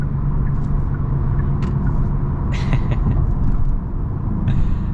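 A tuned 2023 Genesis G70 driving, with a steady engine and road rumble in the cabin and sharp exhaust pops as it downshifts, heard alone without talk.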